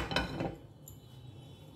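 A metal kadai (wok) set down on a gas stove for dry-roasting flattened rice with no oil: a short metallic clank and clink up front, then a low steady burner hum.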